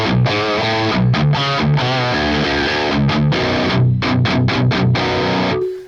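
Electric guitar played through a modern high-gain amp model on a Fractal FM3, tight distorted chugging riffs with choppy palm-muted stops, loud and alone before ringing out at the end.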